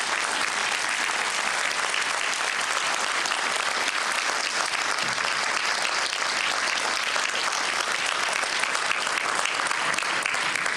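Audience applause as family members stand at a civic event with Anchorage's mayor, dense steady clapping throughout with no talk over it.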